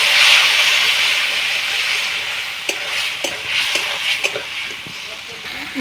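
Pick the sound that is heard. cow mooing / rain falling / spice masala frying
spice masala frying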